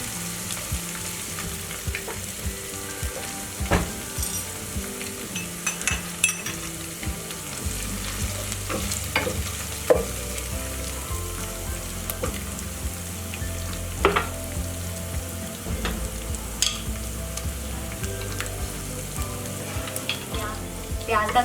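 Onions with garlic ginger paste sizzle steadily in a pan for a cabbage sabzi, with repeated scrapes and clinks of a spoon stirring, close and fairly quiet, with no talk.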